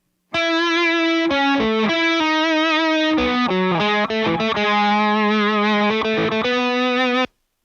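A distorted, sustained electric guitar lead through a Fractal Axe-Fx II XL processor plays a melodic line of bending and shifting notes, loud and continuous with a slight chorus shimmer.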